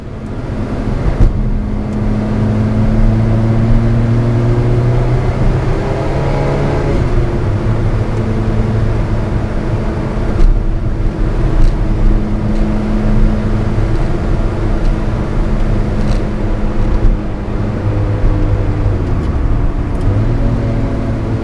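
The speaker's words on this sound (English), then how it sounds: "So now we're going to take off in the 2007 Lotus Exige S." A 2007 Lotus Exige S sports car with a 220-horsepower engine pulls away, its engine loud and close as it revs through rising and falling pitches over about twenty seconds, with no voices.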